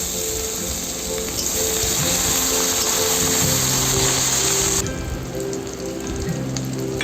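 Chilies fry in oil in a pan for a festive bhog khichuri, giving a loud, continuous close sizzle and crackle with steady stirring, and no voices.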